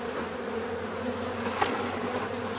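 A honeybee colony buzzes densely at an open hive, a close, steady drone of many bees with no voices over it.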